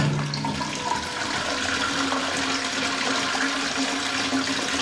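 A Hindware concealed-cistern toilet flushes with a steady, loud rush of water that continues unbroken and close by throughout.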